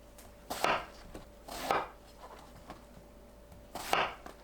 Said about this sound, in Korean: 10cm 길이로 자르고 길게 4등분해서 준비하세요